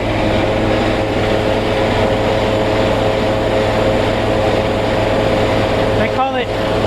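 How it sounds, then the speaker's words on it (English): Heavy, steady engine drone of an idling truck with the air conditioning running, the engine surging, a constant loud low hum inside the cab with a brief higher-pitched sweep near the end. "Can you hear the engine surging?"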